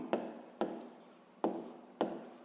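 A pen writing a math formula on paper, four distinct close scratchy strokes in an uneven rhythm, each fading quickly, with no talk.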